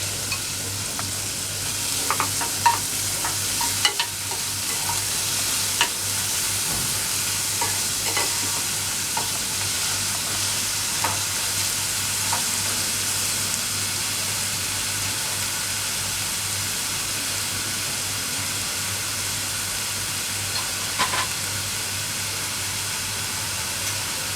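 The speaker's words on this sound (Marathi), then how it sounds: "कांदा कांदा जरा परतून घ्यायचा आपल्याला" Chopped onion sautés in a hot pan as part of a home-style tomato bhaji, a steady soft sizzle and hiss running throughout with occasional clicks and scrapes of stirring.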